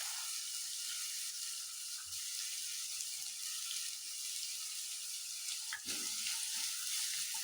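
Finely chopped onions fry in a pan for egg paratha, giving off a steady, soft sizzling hiss with a couple of brief clinks of stirring, and no talking.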